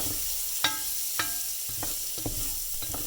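Triple-rinsed rice toasts in hot bacon fat in a pan, giving a soft, steady sizzle broken by a handful of sharp spoon scrapes and clicks against the pan, close and fairly quiet, with no talking.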